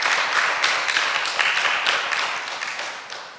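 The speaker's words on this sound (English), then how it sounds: "I would like to give yourself a lusty round of applause" An audience gives a round of applause at a news event. The clapping is dense and continuous with scattered sharper claps, and it fades gradually toward the end.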